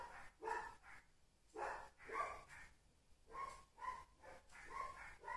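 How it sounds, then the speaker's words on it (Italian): Several dogs bark in short, repeated bursts of three or four, with brief whines in between, fairly near and with no talk over them. "ci sono i cani che passano e quindi gli altri abbaiano"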